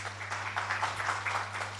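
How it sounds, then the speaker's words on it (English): Applause from a conference audience at a VNIT session as a speaker is welcomed on stage, fairly soft and steady clapping over a constant low electrical hum. "Let's welcome him with a huge round of applause"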